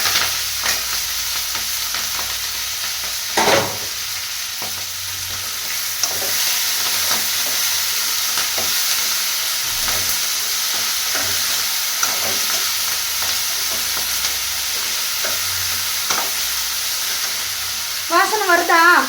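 Pirandai, adamant creeper, is stir-fried in a pan with garlic, lentils and chillies, giving a steady close sizzle with periodic scrapes and clinks of a spatula stirring, and a brief voice near the end.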